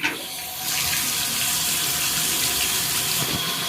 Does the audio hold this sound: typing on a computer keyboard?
no